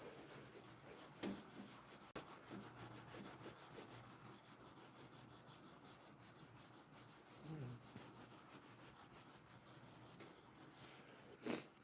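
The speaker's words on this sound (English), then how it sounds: "What I'm doing is I'm flattening this edge" A tool rubs and rasps steadily against an edge of wood to flatten it and remove a burr, with repeated faint scraping strokes and a few louder knocks close by.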